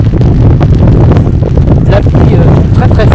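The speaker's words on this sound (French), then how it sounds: "Vous entendez la force du vent." Strong wind buffets the microphone in a storm beside a raging sea in Finistère, a loud, continuous roar with gusty surges and rain noise mixed in, and a voice speaks faintly under it.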